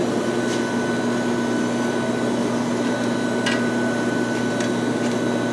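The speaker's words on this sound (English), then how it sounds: "Now, we're going to blow the sand off both sides of the mold." Compressed air blows sand off a foundry casting mold for a split-pattern hatchet in a steady, loud, close hiss with a constant hum, broken by a few faint clicks.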